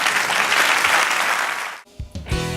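A church congregation bursts into dense, loud applause that fills the first two seconds, then stops abruptly, leaving a few scattered noises.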